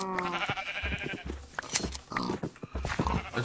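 Sheep in Minecraft bleat repeatedly at close range, several short wavering calls overlapping one another in quick succession with no talking.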